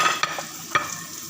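Garlic sizzling in a hot pan, a continuous frying hiss broken by a few sharp stirring scrapes, close and fairly loud with no talking.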